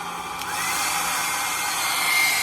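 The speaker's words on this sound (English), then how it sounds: "Here's the ultimate test, the hair dryer." A hair dryer running off a 3,000-watt power inverter switches on and runs with a steady, loud whirring hiss of blowing air, continuing without pause.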